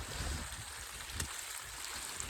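Rainwater running down a muddy hiking trail on the Kuduremukh trek, a steady broad wash of flowing water with no clear individual splashes, constant and fairly close, with no voices.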